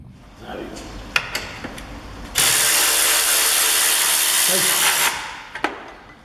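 A ratchet loosens the 10mm battery clamp on a Mini Cooper R56, with a few sharp clicks first and then a loud, steady burst of ratcheting lasting about three seconds, close up.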